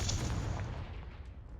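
Confringo fire spell from Hogwarts Legacy bursting with a single muffled boom that rumbles and fades quickly, no talk.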